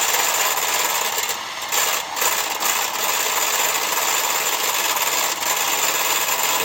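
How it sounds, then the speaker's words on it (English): An egg beater whips eggs until foamy for an omelette, a continuous rapid whirring and rattling that runs close and loud, briefly dipping a few times, with no one talking. "now we're gonna get this nice and foamy here with the egg beater"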